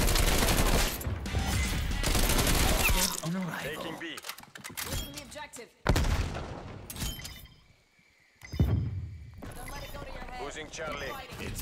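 Bursts of AK-47 gunfire in the video game Call of Duty Cold War, loud rapid automatic volleys with gaps between them, mixed with game effects and a player talking over the action.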